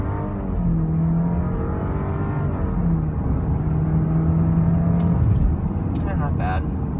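2016 Audi Q5 2.0T pulling hard at full throttle in sport mode, engine tone climbing steadily and droning from inside the cabin, then easing off with a brief clatter near the end.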